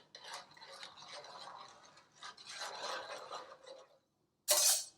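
Spoon stirring and mixing meatball ingredients in a cooking pot, steady scraping and swirling strokes close up, ending in a brief louder clatter.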